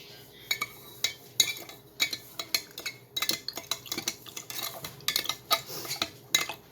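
Spoon stirring sugar into a ginger ale starter, clinking repeatedly against the container in an uneven run of light metallic taps and scrapes, close and moderately loud with no talking.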